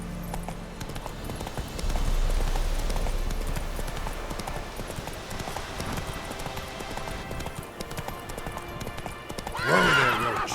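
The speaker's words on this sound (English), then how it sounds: "Whoa there, Roach." A horse gallops with steady, rapid clip-clop hoofbeats in The Witcher 3 video game, ending in a loud neigh near the close.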